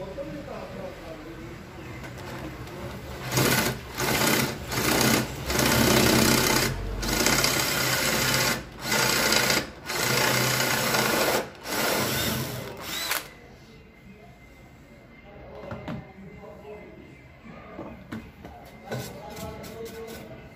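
Power drill boring holes into wood while building a circular saw cart, several loud bursts of whirring in quick succession, then quieter handling and tool noise.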